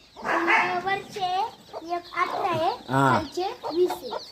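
Hens cluck and chicks chirp close by, mixed with excited human voices talking over the birds.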